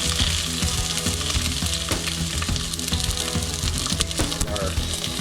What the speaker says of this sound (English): with hot oil and moisture, you are probably going to get a little bit of popping